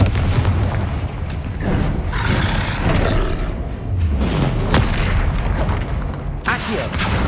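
Confringo fire spell explodes in Hogwarts Legacy combat, a series of deep booming blasts and rumbling impacts over dense battle noise, with a voice calling out spells.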